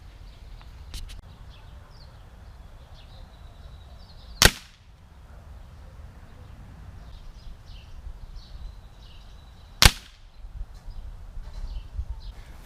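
A Crosman Optimus .22 caliber pellet rifle fires two sharp, loud shots about five seconds apart outdoors, with faint birdsong and light background hiss between them.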